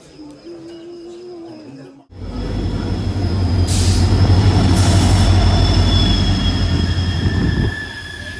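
An intercity passenger train from Hassan to Bangalore rumbles along loud and steady after a quiet opening, with a continuous low roar of wheels on the rails and a few brief high squeals and rattles.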